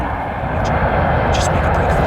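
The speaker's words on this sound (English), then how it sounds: "help came in the form of an American transport plane" An American transport plane flying over, a loud, steady engine roar that holds throughout with no rise or fall, drowning out the surroundings.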